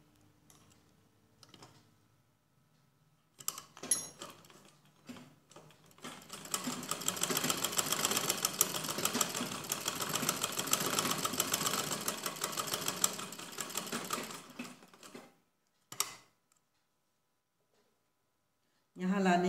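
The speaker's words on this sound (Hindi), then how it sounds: "अब मैं इसको सिल के दिखा रही हूँ, गले की डिजाइन आपको बना के दिखा रही हूँ" A sewing machine sews a heart-shaped neck design, starting with a few short bursts, then running in a long continuous whirring clatter for about ten seconds before stopping. Brief taps follow. Someone speaks at moments around the stitching.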